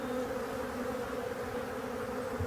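Honeybees swarm around the entrance of a weak hive in early March, a steady dense buzzing drone from many insects, close and continuous with no voices.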